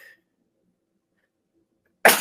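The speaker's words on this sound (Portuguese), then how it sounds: "Momento do espirro." A single sharp, loud sneeze bursts out abruptly at the end, after a brief faint sound and a long near-silent stretch.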